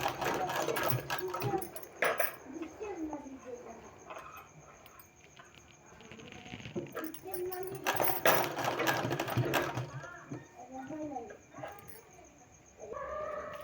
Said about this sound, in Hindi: इसी तरह से पूरे में सिलाई लगा देना है।